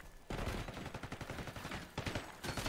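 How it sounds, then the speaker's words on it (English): Rapid gunfire from a 50-round drum-magazine weapon in a video game: dense automatic bursts broken by brief gaps, fairly quiet overall and with no talk. "I gotta reload my 50 round drum mag after I shot 3 bullets"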